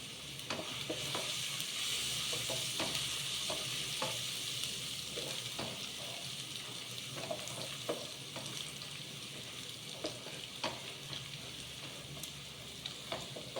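Prawn masala for prawn biryani stirred in a hot pan, a dense continuous sizzle close up with frequent light spoon scrapes and taps against the metal.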